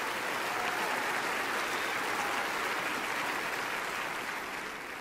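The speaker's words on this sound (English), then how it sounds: "That deserves a round of applause." Crowd applause at a NASCAR awards banquet, continuous dense clapping from a large room that tapers slightly at the end.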